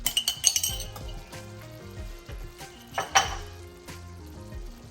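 A spoon stirs mutton palak with ground garam masala in a pan, giving light metallic clinks and scrapes against the pan over a soft, faint sizzle.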